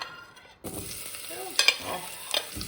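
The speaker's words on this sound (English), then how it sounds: "we're going to drop these lovely prepared sliced onions and red garlic" Sliced onions and red garlic hit hot olive oil and sizzle, a sudden bright hiss after a short quiet moment, with a few utensil clinks and stirring scrapes close by.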